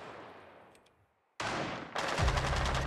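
Gunfire in a ranked Rainbow Six Siege match: a faint fading tail, a brief silence, then a sudden loud burst of rapid shots with a heavy low thump, continuing as dense sustained fire.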